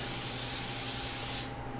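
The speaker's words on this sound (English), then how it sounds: "Put a little spray in it, or just put a little bit of olive oil in it." Cooking spray hisses steadily from an aerosol can into a 9 by 13 baking pan for a kitchen mac and cheese, one continuous close spray that cuts off near the end.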